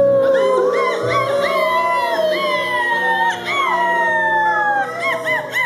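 A live crowd imitates crying dogs with long, wavering howls that come out more like wolves, many voices overlapping in sliding pitches throughout, with a brief cheer near the end.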